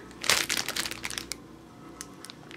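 A plastic bag crinkles and rustles close up, loudest in the first second and then trailing off into a few lighter crackles, with faint background noise.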